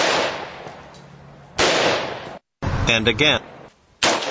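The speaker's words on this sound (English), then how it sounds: "The following recording are AR-15 223556 versus AR-10 308." Sharp rifle gunshots from an AR-15 in .223 and an AR-10 in .308, a few loud cracks with short decaying tails separated by brief gaps, while a voice speaks briefly between them.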